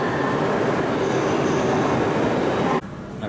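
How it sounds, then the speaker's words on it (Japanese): An out-of-service up-bound Shinkansen rushes past a night Shinkansen carriage as a loud, steady roar that cuts off abruptly near the end, leaving a quieter cabin rumble. "なんだなんだ、もう一本来たぞ、上り列車。あれも回送列車だな。"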